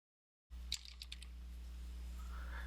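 Typing a project name on a computer keyboard in engineering design software: a short burst of quick, close key clicks after a half-second of silence, then steady low room hum.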